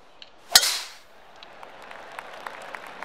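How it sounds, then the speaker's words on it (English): A golf club strikes the ball off the tee in The Golf Club video game at Oakland Hills South, one sharp crisp crack followed by a short fading whoosh, then quiet ambience with faint ticks. "Not with tee shots like that"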